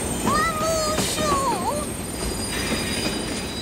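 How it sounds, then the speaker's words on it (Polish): A large, loud cartoon train approaching a station platform, with screeching wheel squeals and rumbling rail noise in a steady roar, no talk over it. "Kajtuś nie zdawał sobie sprawy, że pociąg jest taki wielki, taki głośny."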